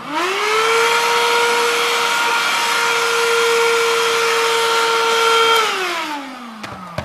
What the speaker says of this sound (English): what I'm doing is I'm checking with the vacuum.